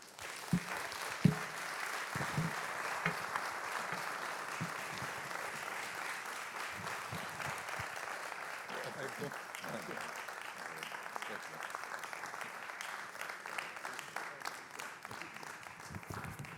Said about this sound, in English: Another round of applause, please, for Professor Soyinka